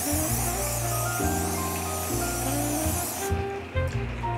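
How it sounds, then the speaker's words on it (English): Cooking spray is aimed at a camping griddle, giving a steady close hiss for about three seconds over a humming background, ending with a couple of soft clicks. "I'm gonna spray my griddle."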